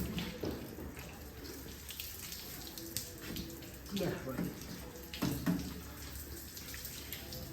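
Water gushes and splashes steadily as a 575 tractor is washed outdoors, a continuous hiss of spray with occasional heavier splashes, while people talk over it.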